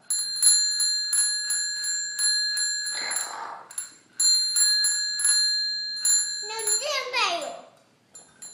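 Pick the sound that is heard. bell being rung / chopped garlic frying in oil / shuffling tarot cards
bell being rung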